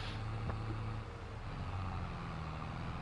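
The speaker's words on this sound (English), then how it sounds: "I'm just driving around in the Fiat right now." A Fiat tractor in Farming Simulator 22 on PlayStation 5 drives along with a steady, low engine drone and faint road rumble, and no voices.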